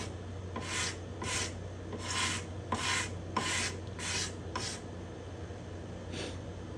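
A hand scraper rasps across the spruce top bindings and purflings of a guitar in about eight short, evenly spaced strokes, close and fairly quiet.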